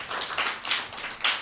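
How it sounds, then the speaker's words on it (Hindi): Children on a Christmas show clap in a short burst of several quick, close hand claps, fairly quiet with no talk over them. "भरपूर तालियां बजाएं।"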